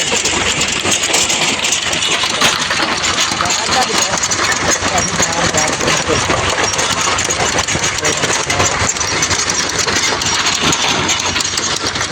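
Tractor with a rotavator attached, engine running steadily while it tills a field, a loud continuous rumble that carries through the whole stretch without a break.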